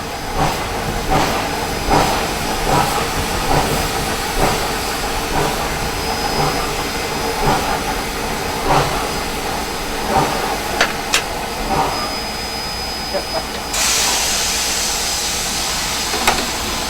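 In a train simulator game, a passenger train brakes to a stop at a platform with its coaches spotted on the mark, giving a continuous hiss of air brakes and rolling rail noise, then a sudden louder release of air near the end.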